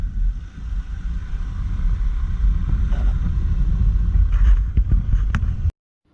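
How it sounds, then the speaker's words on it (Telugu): A scooter is loaded onto a boat, producing a loud, steady low engine rumble with a few knocks and clatters near the end before the sound cuts off abruptly. "మా స్కూటీని ఇప్పుడు బోట్ ఎక్కిస్తున్నాం అనమాట"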